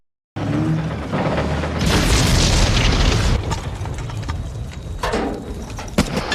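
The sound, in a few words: tank explosion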